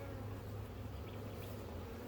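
Bees hum steadily around an open hive in a bee yard, a faint, continuous buzzing drone with no voices.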